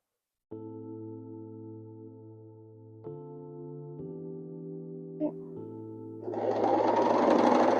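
A sewing machine running alone in short stitching bursts with steady mechanical hum and clatter, pausing and restarting, ending in a faster, louder run; close and clear.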